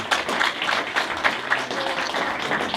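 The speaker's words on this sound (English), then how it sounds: "let's give all of you guys a hand of applause for coming" An audience at a PhD graduation celebration applauds steadily, a dense patter of many hands clapping at close range with no pauses.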